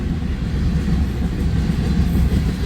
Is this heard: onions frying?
no